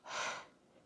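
One quick, deep, deliberate breath drawn in through the mouth to ease labor, a close, airy rush lasting under half a second that fades into quiet.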